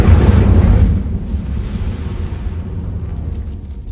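An Incendio fire spell cast in a video game lets out a loud burst of flame that booms at once and then fades into a long roaring tail.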